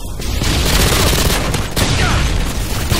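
Grenade launcher fire in the game Modern Warfare 2, loud rapid booming explosions layered over heavy gunfire, a dense continuous barrage with no pauses.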